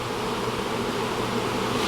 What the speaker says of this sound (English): you go in and there's like a hum, or they're kind of edgy and kind of all over the place